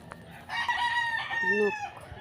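Several chickens on a family farm cluck and a rooster crows once, a drawn-out call standing clear over soft farmyard background noise.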